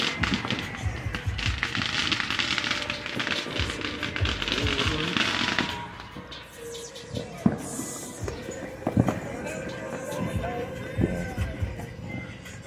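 Fourth of July fireworks crackle densely for several seconds, then thin into scattered distant pops and bangs with a few sharper reports over a noisy outdoor background.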